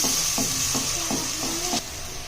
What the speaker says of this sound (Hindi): अब इसको ऐड करने के बाद हमने इसकी भुनाई करनी है अच्छे से